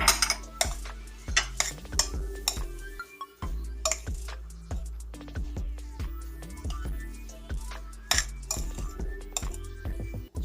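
A spoon stirs kısır in a bowl, a bulgur mixture seasoned with spices and black pepper, giving steady scraping and clinking strokes against the bowl, close and fairly quiet with a short pause partway through.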